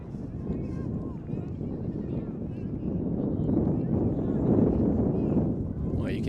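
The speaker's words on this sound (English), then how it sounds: "Oh, you can hear that wind picking up." Strong wind gusting outdoors at a tertiary ultimate frisbee championship in New Zealand, a steady low roar buffeting the microphone that builds and swells louder through the middle and stays loud to the end.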